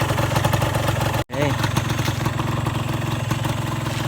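A Honda LS125 motorcycle engine runs steadily and loudly at close range, with a dense, even mechanical drone that cuts out for an instant before resuming. Someone speaks over it.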